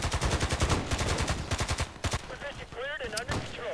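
Rapid full-auto bursts from an AKS-74u in a video game, rattling loud and close in quick strings, then tapering into sparser shots mixed with someone talking over the gunfire.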